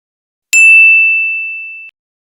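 A single bright electronic ding sounds for an SMS message notification on a radio request show, sharp at the start and ringing clearly for over a second before cutting off, alone in silence.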